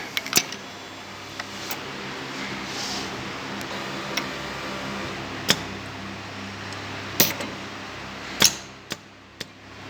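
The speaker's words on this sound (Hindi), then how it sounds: "ये सोलेनॉइड के ओपन और क्लोज होने का साउंड है।" A solenoid valve in a Festo pick-and-place measurement robotic system snaps open and shut with crisp, irregular clicks over a steady mechanical hum, close and fairly quiet.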